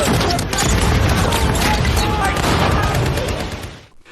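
Heavy, rapid gunfire in dense overlapping bursts, loud and sustained, tapering off abruptly near the end.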